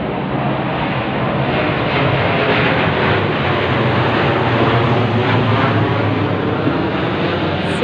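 A plane flies overhead: a steady, loud, broadband roar that holds for the whole stretch without letting up.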